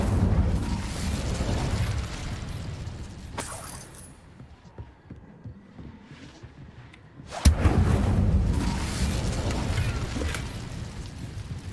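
The Incendio fire spell in Hogwarts Legacy roars as a loud, sustained blast of fire, dips into a quieter crackling lull, then flares up again with a sharp burst and keeps roaring to the end.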